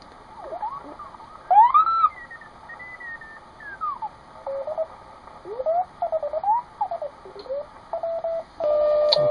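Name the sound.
WWV time signal on shortwave radio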